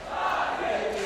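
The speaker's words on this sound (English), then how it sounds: "The crowd is cheering Na'Vi. You can hear them in the background." A large crowd at a Counter-Strike esports final roars and cheers for Na'Vi in a continuous, loud, unbroken wall of voices.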